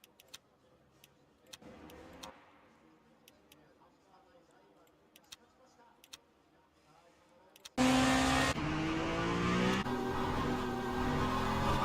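Aussie Racing Cars at Knockhill in Assetto Corsa. After a quiet stretch of faint ticks and a voice speaking, a loud engine roar suddenly bursts in and keeps droning for the last few seconds.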